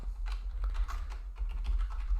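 Steady typing on a computer keyboard, a quick run of close, crisp key clicks with small pauses, heard alone without speech.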